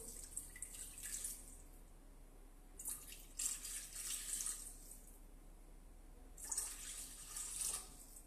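Water poured into a bowl for a chicken, carrot and mushroom blanquette: soft splashing, trickling bursts come in three short spells with quiet gaps between them, faint and close, with no voices.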